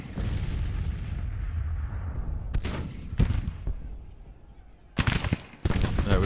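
In the Civil War strategy game Grand Tactician, artillery and musket fire crackle as a continuous rumble, broken by several sharp, loud volleys and booms.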